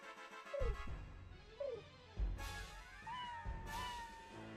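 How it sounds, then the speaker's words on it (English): Game cat meows and yowls from the Suikoden video game, several separate calls with rising and falling pitch over a steady background of game music. "Meanwhile, the cat sounds attack the window."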